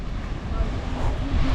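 Blustery wind buffets the microphone over a steady roar of rough sea waves along the Hove seafront, a dense continuous rumble with no clear breaks.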